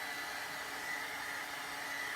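A hair dryer blows steadily on wet paint on paper, a continuous even whoosh that stays close and moderately loud with no voices.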